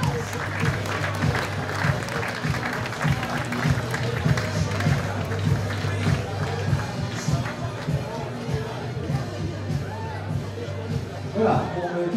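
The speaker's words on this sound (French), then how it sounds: "On peut les applaudir, s'il vous plaît." An audience applauds at an evening festival event, sustained clapping from a crowd that stays fairly loud and even throughout, with some murmuring underneath.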